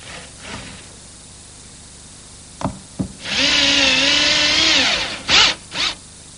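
A power drill drives a number 6 by 1.25 inch square-drive screw into a pre-drilled hole in wood for an easel, a few short taps and then a loud steady whine of about two seconds, ending in two quick bursts.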